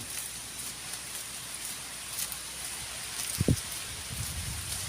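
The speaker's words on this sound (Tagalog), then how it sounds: "oh ayan na naman yung ambon po" Light drizzle falls outdoors in the Philippines during Typhoon Tino, a soft, even patter with a brief low thump partway through.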